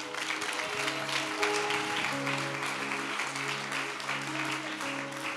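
A church congregation applauding with sustained, dense clapping, while a few voices and sustained instrumental tones carry on underneath.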